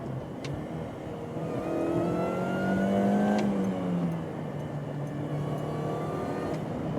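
A supercharged MINI R53 Cooper S engine revs steadily with a rising supercharger whine that peaks midway and then settles into a sustained mechanical hum.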